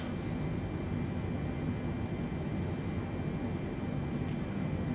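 An ASOBO Boeing 747-8 takes off in a flight simulator: a steady, loud roar of engine and rushing air, unbroken throughout with a faint high whine.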